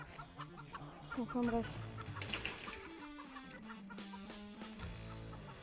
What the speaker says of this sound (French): il y a des poules de partout